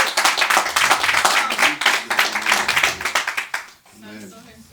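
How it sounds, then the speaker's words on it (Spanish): Church congregation clapping for Jesus during a Spanish-language worship service, a dense burst of many hands that fades out near the end. "Dele un aplauso a Jesús."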